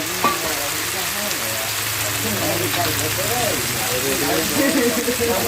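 Eel pieces fry in hot oil until crispy, a dense, steady crackling sizzle close by with voices talking over it.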